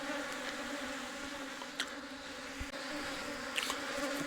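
Continuous low buzzing of many honey bees clustered near a hive, a steady drone with a few faint clicks.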